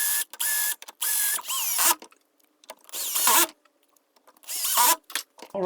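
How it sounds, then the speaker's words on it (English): Several short bursts of a power drill whirring while pre-drilling pilot holes for interior door hinges, each a second or so long, separated by quiet gaps and small clicks. "I'll drill out, pre-drill some centered holes."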